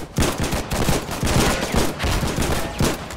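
Dense, overlapping gunfire from a battle in the video game Foxhole, with rapid rifle and machine-gun shots cracking continuously at close and middle distance and no pause in the firing.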